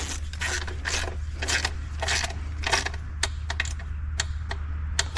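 A wrench ratchets on the valve cover bolts of a Kia Soul, a run of quick rhythmic clicking strokes close by over a low steady hum, the strokes growing shorter and sharper toward the end.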